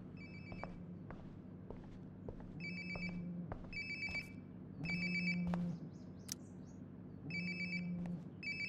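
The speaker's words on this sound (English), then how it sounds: "Sounds like my phone is definitely nearby." A phone rings in the video game Life is Strange Before the Storm Remastered, repeating in regular bursts of a trilling bell tone, with footsteps and soft ambient room sounds beneath and no talking.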